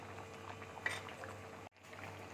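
A curry with besan fritters added, simmering in a pan, giving soft continuous bubbling at low level with one brief drop-out near the end.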